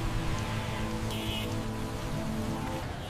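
Rain falls steadily in a city, a dense, even wash of patter heard close for a few seconds under a faint low hum.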